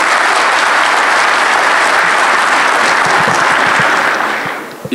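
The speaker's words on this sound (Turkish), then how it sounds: "Bir alkış hak ettiklerini düşünüyorum." Sustained applause fills a hall at a Gençlerbirliği football club congress, a dense steady clapping from a large audience that holds evenly and begins to fade near the end.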